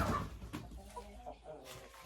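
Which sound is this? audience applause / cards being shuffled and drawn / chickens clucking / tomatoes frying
chickens clucking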